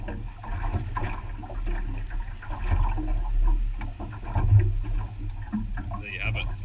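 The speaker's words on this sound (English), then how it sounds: "Give it a wash in the water." Crayfish halves are swished and rinsed in water outdoors, giving soft splashes and trickling sloshes under a low rumble of wind or waves, with a voice talking nearby.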